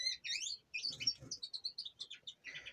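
A male and a female canary meeting for the first time, chirping in quick, bright, high twittering phrases with short gaps, close and fairly soft, with no talking.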